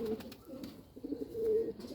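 A domestic pigeon coos nearby on a rooftop loft, giving a few soft, low, throaty rolling calls in quick succession, fairly clear with little background noise.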